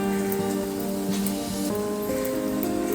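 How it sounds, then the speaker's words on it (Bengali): Rainwater gathering into a container outdoors, a steady patter of drops with brief splashes and a faint ringing tone throughout. "দেন হচ্ছে একটু বৃষ্টির পানি নিচ্ছি"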